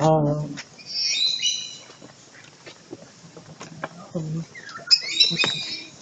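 Lovebirds at a zoo, giving sharp high chirps and squawks in bursts near the start and again toward the end, mixed with a voice, clattering and background noise.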